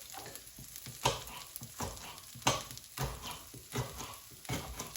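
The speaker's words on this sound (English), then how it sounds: "now I'm gonna give it a little mix" Stir-fry vegetables, including mangetout and chopped pepper, tossed and stirred in a hot pan, with a soft sizzle under repeated scraping and clacking strokes at an irregular rhythm, close but quiet.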